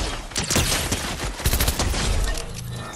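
Rapid bursts of Fortnite gunfire crackle and pop throughout, dense and loud with a few sharp impact peaks, filling the short stretch without pause.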